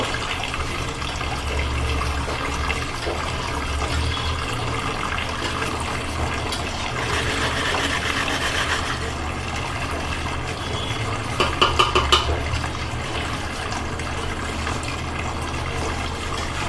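Dishes being washed under a running tap, a steady wash of water with faint clinks and scrubbing, plus a brief cluster of sharper knocks midway, no talking.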